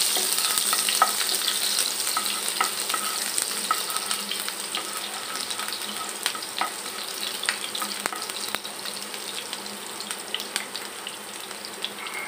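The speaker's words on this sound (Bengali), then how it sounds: "পেঁয়াজ কুচিগুলি আমি লাল লাল করে একটু ভেজে নেব।" Chopped onions fry steadily in a pan for an egg and snake gourd bhaji, a continuous close crackling sizzle with occasional sharper pops and no talking.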